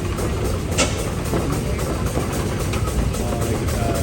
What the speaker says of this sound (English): Next up is 1916 Russell steam traction engine.